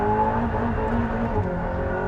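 Aston Martin hypercar engine revving hard against its limiter, a sustained loud whining drone with steady harmonic tones and slight wavering pitch, close and without speech.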